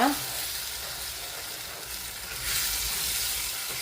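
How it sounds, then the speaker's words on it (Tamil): Sri Lankan pineapple curry with coconut milk is stirred in a pan, giving a soft, quiet simmering hiss with light stirring noises that swell slightly near the end, and no voices. "தேங்காய் பால் விட்டு நீங்கள் இதை நல்லா மிக்ஸ் பண்ணிக்கிறோங்க"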